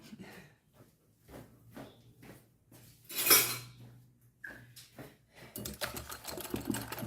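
A mixing utensil set down in a kitchen sink while baking blueberry banana bread: scattered clinks and clatters of metal against the sink, some brief rattles, then a longer run of clattering near the end, all close and fairly quiet.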